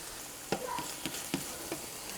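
A butter-toasted tuna melt sandwich browns in a hot pan, giving a steady close sizzle with a few sharp crackles and pops spaced about half a second apart.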